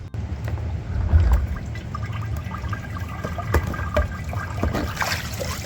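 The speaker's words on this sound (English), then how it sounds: "And this is still all the water that's coming out of the rug" Dirty floodwater trickles and splashes steadily as a soaked rug is wrung out on the fourth day after flooding, a close, continuous watery pouring with small irregular drips and spatters.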